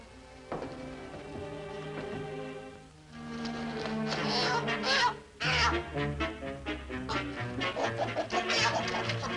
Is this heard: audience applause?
no